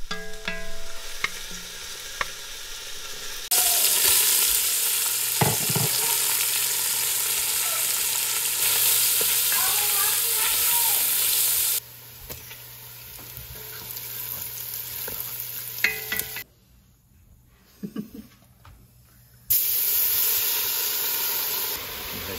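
Bacon, onions, garlic and red chilies frying in a pan as the base for a Sicilian pizza sauce. A loud, continuous sizzle and hiss with occasional stirring, broken by abrupt cuts and a brief quieter stretch.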